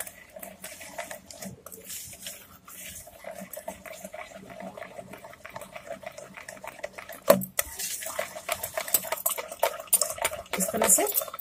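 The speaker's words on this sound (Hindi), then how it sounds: "इस तरह से खूब अच्छे से फेंटना है इसको।" A sweet batter mixed with very cold water is beaten by hand in a bowl, giving steady soft scraping and sloshing stirs with light utensil clinks throughout, getting a bit louder near the end.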